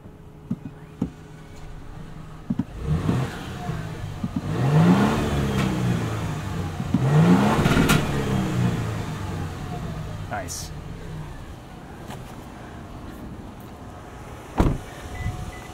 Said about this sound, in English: Let's give it a couple revs here.